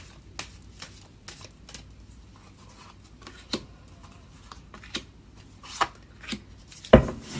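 Tarot cards are shuffled in a series of brisk riffles and soft slides, close and fairly quiet, with a sharper snap near the end.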